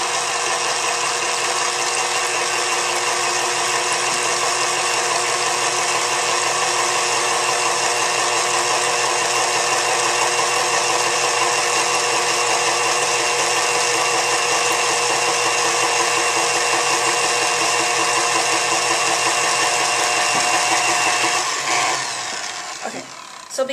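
A blender runs steadily at high speed, whirring loud and constant through a powdered sugar and cocoa mixture for a Yule log, then winds down and stops right at the end.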